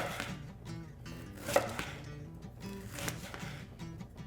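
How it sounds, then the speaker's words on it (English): A knife slices cabbage into thin pieces on a cutting board in a home kitchen, with several close, crisp chops and crunches, quiet and without talk. "I'm going to start pretty thin slices"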